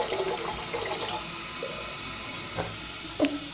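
Water rushes steadily into a 2012 Kohler Wellworth toilet tank as it refills, a continuous hissing flow with a few faint clicks and knocks.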